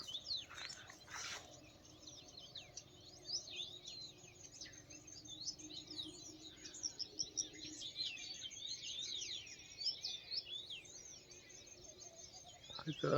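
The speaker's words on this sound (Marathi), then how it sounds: "बारीक आवाज येते पाखरांचं" Small birds chirp and tweet in quick, high overlapping calls in a millet field, fairly faint and distant over a quiet low background hum.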